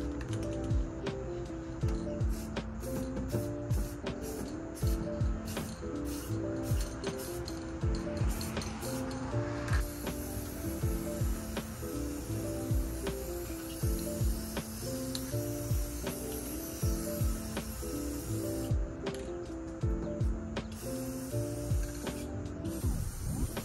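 Bursts of spray paint hiss steadily from an aerosol can while the chrome trim on a Dodge Challenger gets resprayed at home, with rhythmic clicking between passes and no talk.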